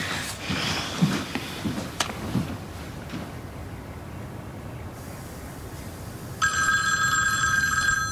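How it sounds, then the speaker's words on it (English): A telephone bell starts ringing indoors in the last seconds, a bright sustained electronic ring that cuts in loudly after quieter room noise and some faint movement sounds, with no talking. "Is that a phone?"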